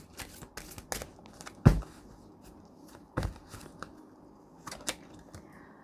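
Tarot cards, a Romance Angels oracle deck, shuffled and drawn: soft papery riffles with several sharper slaps and snaps, close and fairly quiet, with no voice.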